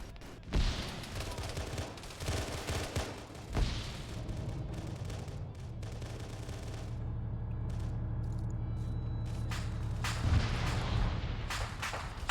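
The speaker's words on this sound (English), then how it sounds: "So grenade round just made that vehicle cook off." A vehicle cooks off after a grenade round hit in the Arma 3 OPTRE game, loud booming blasts and crackling bursts rolling on amid gunfire in a foggy battle, with faint voices under it.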